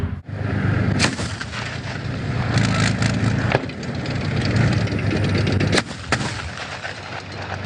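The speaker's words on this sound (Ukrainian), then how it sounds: "Зараз БМП веде вогонь осколково-фугасними снарядами бачимо характерні розриви" An infantry fighting vehicle's cannon fires high-explosive fragmentation rounds, heavy booming shots amid a constant roar of engine noise, several sharp blasts spaced a few seconds apart, loud and fairly close.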